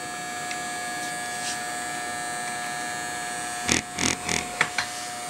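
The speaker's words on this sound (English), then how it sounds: "I'm just going to shave in a little bit so we see a little bit of a line." Electric hair clippers buzz during a low taper haircut, a steady close hum throughout, joined near the end by a few short louder bursts as the blades cut into the hair.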